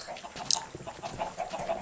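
Chickens in the video game Minecraft give short clucks and squawks close by, a quick scattered series over a quiet background with no talking.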